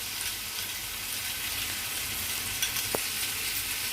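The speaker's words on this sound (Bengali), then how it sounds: "এবার এর মধ্যে আমি সর্ষে কাঁচা লঙ্কা বাটাটা দিয়ে দেবো, সবটাই দিয়ে দেবো" Mustard and green chili paste goes into a pan where a hilsa fish head is frying, with a steady wash of sizzling oil, one brief sharp knock partway through, and a faint, even hiss the rest of the time.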